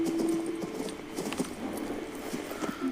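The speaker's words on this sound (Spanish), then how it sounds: "Vamos a llamar al caballo." Horse hooves clip-clop steadily over a game-world soundscape in King's Bounty 2, a continuous mid-level trot mixed with ambient background sound.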